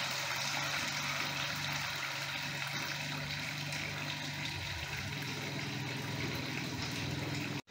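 Household water pump motor kicking back on after the pressure drops, a steady low electric drone with a hum band running evenly throughout, moderately close, without speech.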